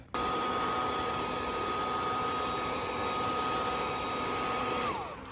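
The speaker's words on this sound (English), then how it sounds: "So I get the blow dryer and some paper towels." A blow dryer heating wax on a surfboard runs steadily at close range with a constant whirring roar, then winds down at the end.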